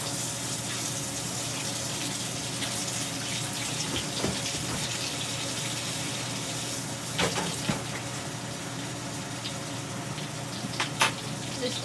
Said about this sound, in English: Just take them and then put them in there and strain it out.